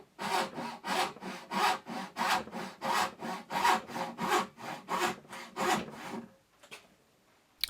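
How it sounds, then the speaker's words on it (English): Hand saw cutting a wooden hinge piece held in a vise, about a dozen steady rasping back-and-forth strokes in even rhythm, close and clear, ending in quiet. "I'm taking my time as the accuracy of the saw cut's quite important here."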